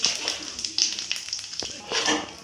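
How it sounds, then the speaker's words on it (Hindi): Bay leaf and cumin crackle and sizzle in hot oil close by, a bright hiss with small pops rising and falling. "इसमें अभी तेज पत्ता दिए जा रहे हैं और थोड़ा सा जीरा दिया जा रहा है"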